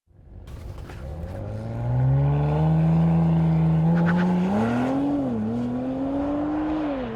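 A 2022 Audi RS4 Avant Competition Plus estate car accelerates on a race track, its engine note climbing steadily in pitch and holding a loud, close, continuous roar with a brief dip and recovery near the end, with no talking.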